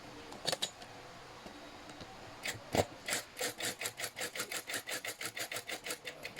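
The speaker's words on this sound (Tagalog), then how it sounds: "Screw na lang natin ng ganyan." Screw being driven in while an office chair with a black mesh back is assembled: a couple of faint scrapes, then a steady run of rhythmic grinding turns that grows more regular, close and fairly quiet, with no talking.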